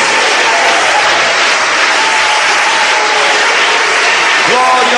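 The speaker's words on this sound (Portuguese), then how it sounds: "vamos ouvir aquelas palmas bem bonitas, bem alegres, bem fortes para Jesus" A church congregation claps in loud, sustained, dense applause that fills the room evenly for several seconds. A voice comes in briefly near the end.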